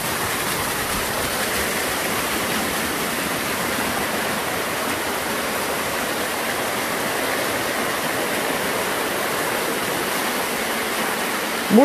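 Waterfall pouring steadily, a continuous broadband hiss and roar of falling water heard close and fairly loud, unchanging over the whole stretch with no voices.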